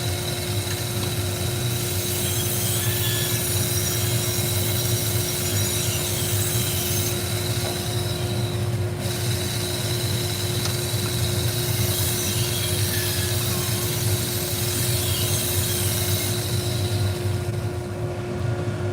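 Steel knife edge pitted with corrosion being ground on a power sharpener, a steady, loud grinding whine running continuously throughout with a constant hum underneath.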